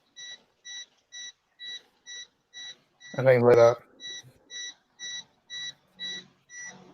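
An alarm clock style electronic beeper sounds repeated short, evenly spaced beeps, about a dozen in a steady rhythm, briefly interrupted as someone speaks in the middle.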